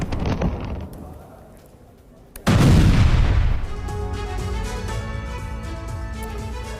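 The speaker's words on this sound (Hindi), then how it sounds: "यूक्रेन ने नेपच्यून मिसाइल से विस्फोट किया है।" A Ukrainian Neptune missile strike on a Russian weapons depot sets off a sudden loud blast partway through, followed by rumbling, crackling secondary noise, after quieter scattered pops and rumble.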